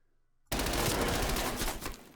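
Gunfire in Call of Duty erupts suddenly as a loud, dense burst of rapid shots that lasts well over a second and then trails off slightly.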